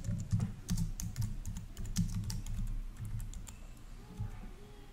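Fingers tapping a computer keyboard while entering a street address into a form, a steady close run of quick key clicks with a few heavier strokes, no talk over it.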